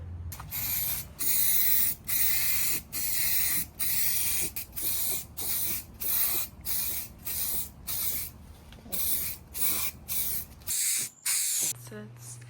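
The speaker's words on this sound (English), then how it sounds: "I do need to spray the underside, so I'm gonna start on this right now." Repeated bursts of aerosol spray paint hissing onto a car's underside in steady, evenly spaced pulses close by, with a low hum underneath.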